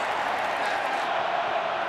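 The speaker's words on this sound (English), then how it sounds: "this crowd is making an impact already today" Iowa football stadium crowd, a steady, loud, broadband roar of thousands of fans holding constant with no letup across the short stretch.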